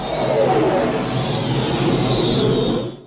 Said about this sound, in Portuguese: E, finalmente, vamos ouvir o Standard Range Plus.